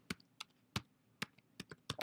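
Typing on a computer keyboard: about eight crisp, close key taps in an uneven rhythm, with short quiet gaps between keystrokes and no talking.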